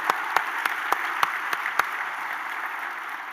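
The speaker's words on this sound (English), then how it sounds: "I'd like to give your dad a big round of applause." Audience applause in a hall at a regional chamber of commerce annual meeting, a steady wash of clapping with a few sharper individual claps standing out near the start, fading slightly toward the end.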